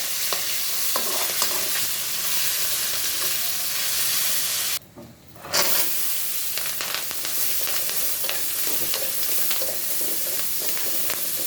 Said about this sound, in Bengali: মাছের মাথা ভেজে নিচ্ছি